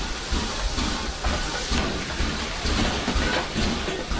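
A steam train of the early 1900s Belle Époque era runs with a steady hiss and a rumbling clatter that fill the whole stretch, loud and continuous with no speech.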